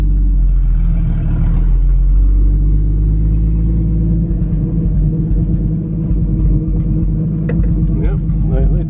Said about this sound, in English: I'm trying to drive through the gate.